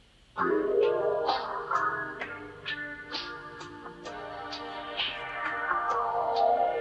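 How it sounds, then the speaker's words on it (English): A music sample run through a Phase Mistress phaser filter, dense harmonic layers with a slowly sweeping tonal character and repeated bright transients, playing steadily and loud with no talking. "in this section, I took the sample and I filtered it through Phase Mistress"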